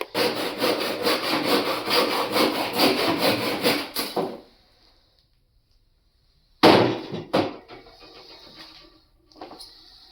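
Handsaw cutting through a wooden tree fork to shape a slingshot, a steady rapid back-and-forth rasping for about four seconds, then silence and a few brief scrapes and knocks of wood, close and loud.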